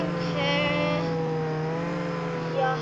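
A car pulls up in the video game Jailbreak, its steady engine drone holding throughout with a brief rise in revs near the end, loud and close.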